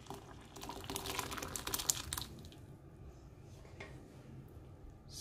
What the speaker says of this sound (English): I'm going to be pouring everything inside here to strain it out with the strainer.